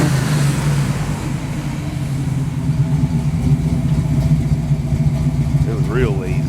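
A Pontiac Firebird V8 fitted with a new Quadrajet carburetor runs steadily at a low, rumbling idle throughout, heard close and fairly loud, with a brief voice near the end.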